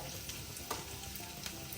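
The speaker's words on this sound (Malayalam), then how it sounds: "തിളക്കുന്നുണ്ട്." A steady bubbling sizzle from a pot of Kerala-style coconut dal curry boiling on the stove, with a couple of faint clicks, continuous and fairly quiet.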